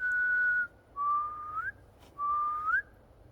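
A person whistles outdoors at night in a woodland during a paranormal investigation: three sustained clear tones, each ending in a short upward slide, separated by brief pauses over a quiet background.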